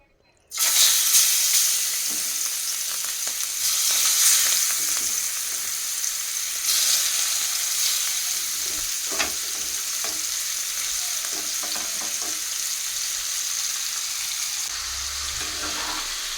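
Prawns coated with salt, chili and masala fry in hot oil, giving a loud, steady sizzle that begins abruptly and holds with stirring noises and brief surges throughout.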